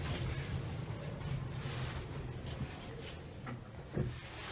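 Lift doors sliding shut inside a residential building in Fulham, London, heard as a steady low mechanical rumble with a soft thud near the end.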